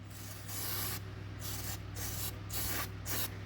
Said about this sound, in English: So I will spray all this